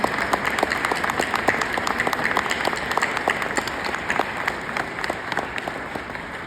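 Steady applause from a seated audience at a bar association speech, honoring staff at the back of the room: many hands clapping in a dense, even patter with crisp individual claps throughout, no voices.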